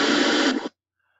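A burst of broadband white noise generated in Audacity hisses steadily at even loudness for about seven tenths of a second, then stops abruptly into silence.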